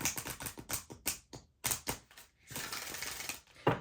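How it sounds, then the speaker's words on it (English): Tarot cards being shuffled close up, a rapid run of crisp riffling taps and flicks in uneven bursts with brief pauses between them. "I'm going to do 2 shuffles."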